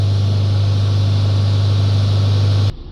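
A 2015-era Iveco Daily 2.3 diesel van with a high-resistance particle filter fault idles with a steady, low droning hum that holds evenly and then cuts out abruptly just before the end.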